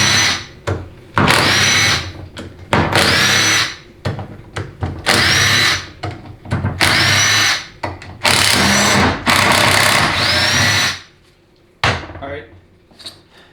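Power tool spinning out the six 8mm valve body bolts on a 4L80E transmission during teardown, loud repeated bursts of whirring with brief pauses between, close up, ending in quieter handling noise.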